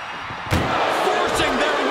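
An ambulance door slams hard as a wrestler tries to force it shut during a wrestling match, a sharp bang followed by rattling knocks and crowd noise.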